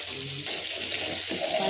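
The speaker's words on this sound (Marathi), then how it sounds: "हे असे फ्राय करायचे आपण" River fish frying in a pan, a steady close hiss of sizzling oil that carries on unbroken through the short moment, with no talking.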